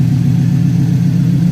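A GMC OBS truck engine runs at a steady idle, with a close, continuous low rumble and no voices over it.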